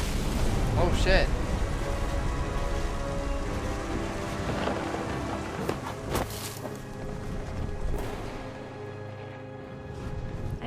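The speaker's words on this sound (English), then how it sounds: "The thunder sounded much too close and full of angry power." Thunderstorm with steady rain in the video game What Remains of Edith Finch: a continuous dense wash of rainfall with low rumbling thunder and a few sharper cracks, loud and enveloping throughout.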